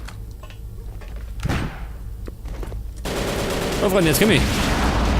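Grenade explosion and gunfire in the game Übersoldier 2: a sharp explosive crack around one and a half seconds, scattered shots, then a denser burst of firing and noise after three seconds, with someone speaking German over it.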